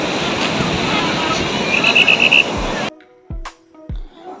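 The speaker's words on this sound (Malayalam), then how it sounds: "നമ്മളിതാ കടലിലെത്തിയിട്ടുണ്ട്." Surf on a beach at Aazhimala in the evening: a dense, steady roar of waves and wind for about three seconds, then it cuts abruptly to near quiet broken by a few dull thumps.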